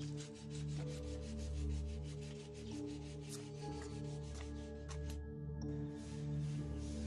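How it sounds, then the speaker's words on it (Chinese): Sandpaper of 200 and then 400 grit rubs across a wooden screen, giving close, repeated scratchy strokes in a steady back-and-forth rhythm. "再用200目和400目的磨砂纸先后在屏风上进行打"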